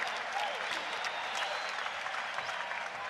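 Basketball arena crowd in a Bulls versus SuperSonics game applauding and cheering, a continuous, distant roar of clapping and crowd noise filling the hall.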